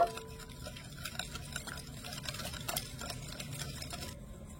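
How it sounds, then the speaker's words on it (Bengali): Yogurt, oil and sugar being stirred together in a bowl, a quiet series of soft scraping and light tapping strokes, close and faint, with no voices. "তেলটা দিয়েও ভালো করে আমি মিশিয়ে নেব।"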